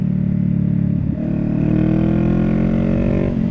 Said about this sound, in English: you can just do that, listen to your exhaust rev out